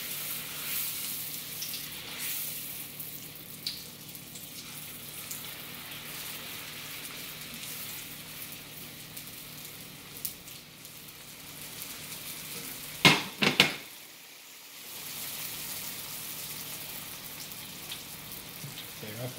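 Jamaican jerk egg rolls sizzle steadily in a hot crock pot, a continuous crackling fry broken briefly by a sharp clatter of utensils near the end.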